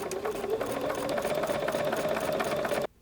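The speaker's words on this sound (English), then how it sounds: "And start stitching." A sewing machine stitches a quilt in a fast steady whirring hum with rapid needle clatter, loud and close, running continuously before stopping abruptly.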